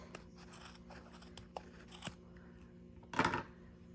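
Scissors snipping yarn on a small crocheted pet pullover hoodie, a few light clicks, then one crisp, louder cut near the end, close and quiet with no talk.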